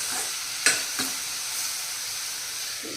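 Onions frying in a pan for beetroot palya, sizzling steadily while a spoon stirs and scrapes against the pan in a few distinct knocks.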